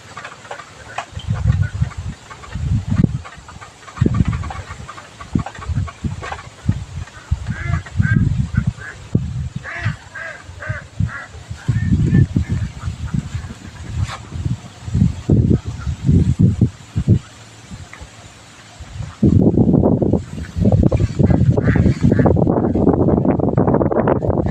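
A flock of about 600 poultry ducks quacks and honks continuously in loud, overlapping bursts, a brief lull near the end giving way to an even denser chorus.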